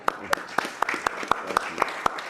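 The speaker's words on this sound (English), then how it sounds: "Marty, let's give Marty a round of applause, will you?" Sparse, rhythmic hand claps ring out at a steady pace in a small online reunion gathering, a few people applauding Marty over faint background voices.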